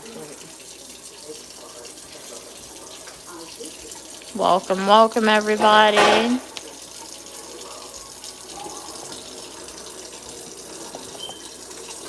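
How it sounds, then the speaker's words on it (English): Cold tap water runs steadily into a sink while chicken that was soaked in vinegar is rinsed under it. The flow is a constant close hiss, and a voice briefly speaks over it midway. "We are washing some chicken right now."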